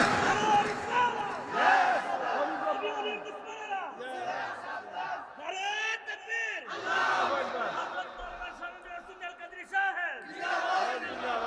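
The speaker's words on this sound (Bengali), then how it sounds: "ইমাম সাহেবকে তাকবীর দেওয়া চাই।" A crowd at a Shab-e-Barat religious gathering shouts the takbir, several loud swelling waves of many voices calling together, with pauses of quieter murmur between the chants.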